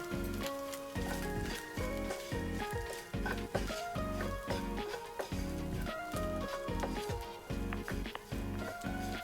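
Masala and egg sizzle in a frying pan for egg fried Maggi noodles, with a continuous close crackle broken by stirring scrapes, and tonal background music running underneath.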